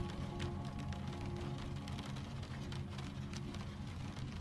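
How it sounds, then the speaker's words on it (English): Constant rainfall blends into an even, unbroken hiss, steady and moderately loud with no distinct individual drops. "The rain has become a single sound now"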